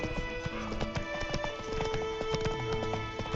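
Roach the horse in the Witcher 3 video game walks with continuous clip-clopping hooves, steady and fairly close, layered over soft ambient game music with faint harness jingles.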